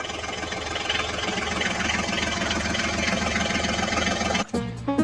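A Swaraj tractor engine runs at a steady, loud idle close by, then cuts out abruptly near the end with a brief clunk.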